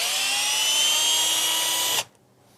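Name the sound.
Bosch professional cordless drill running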